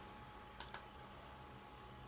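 Two quick plastic button presses on a graphing calculator, sharp clicks about a tenth of a second apart against a quiet room hum, with no talking.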